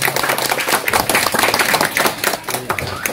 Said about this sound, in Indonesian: Mohon tepuk tangan sekali lagi untuk kita semua.